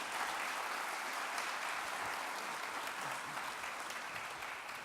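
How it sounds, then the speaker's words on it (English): Dense, continuous audience applause greets speakers at a collaboration event in Atlanta, steady and even from start to finish. "Please give them a big round of applause."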